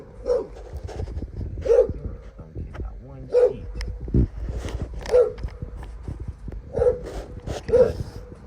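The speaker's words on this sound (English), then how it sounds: "Y'all don't want to hear that little raspberry bark" A small dog barks in short, regular yaps about every second and a half, close and loud, while people talk over it outdoors.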